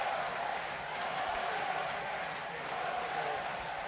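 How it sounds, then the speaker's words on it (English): Stockport County football fans sing and roar in a stadium during the closing minutes of a match against Wrexham, a steady, dense wash of crowd voices heard from a distance, continuous and loud throughout. "Stockport fans making noise, looking to sing them home"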